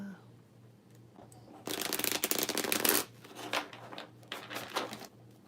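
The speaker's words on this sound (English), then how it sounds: "I'm gonna get a good shuffle in here." Playing cards are shuffled up close in a loud riffling burst, followed by a few shorter, softer riffles and quiet card handling.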